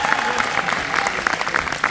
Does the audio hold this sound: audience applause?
yes